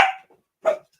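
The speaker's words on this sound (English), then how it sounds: "My dog is barking." A dog barks twice nearby, two short sharp barks separated by a brief pause, heard on their own in a quiet room.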